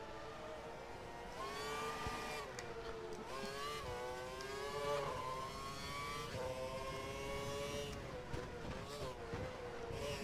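A Formula 1 car engine in Formel 1 2012 drones steadily around a track, its tone climbing and dropping through gear changes. A voice talks quietly over the engine.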